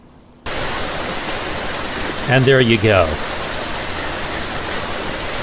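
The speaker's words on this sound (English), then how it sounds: "I don't know at what point you're going to hear the rain" Steady, dense rain hiss from the video game BeamNG.drive fills the scene from start to finish, loud and unbroken, with a brief spoken phrase over it partway through.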